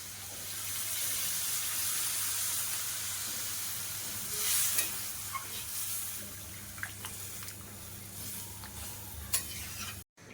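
Water poured into a hot pan while cooking Bengali dal, giving a faint steady hiss and sputtering sizzle that peaks briefly midway, then settles into scattered crackles before cutting off near the end.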